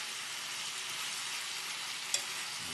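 Shrimp cooking with ripe mango in a pan gives a continuous, even frying hiss, broken once by a quick utensil tick near the end.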